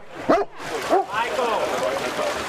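A dog named Hannah gives two short barks by a lake at night, the start signal for open-water swimmers, followed by a whimpering, whining tone with background noise.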